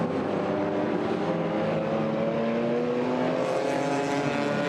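GT4 race cars lapping the Hungary circuit, a dense, continuous engine roar with several overlapping, slowly shifting engine tones, loud and steady throughout, with no voices.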